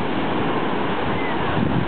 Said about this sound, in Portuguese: E olha as ondas que vem aí